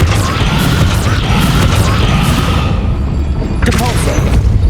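Spell effects from the Depulso force-push charm in Hogwarts Legacy, a dense booming rush that persists throughout, with a sharper crackling burst near the end, all over steady game noise.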